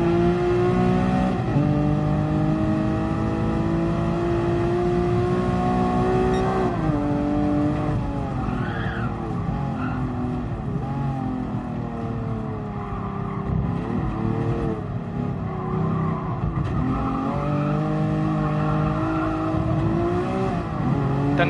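Lamborghini Aventador engine in Gran Turismo Sport racing, a continuous loud high-revving roar with rising and falling pitch through gear changes and braking, steady throughout with no speech.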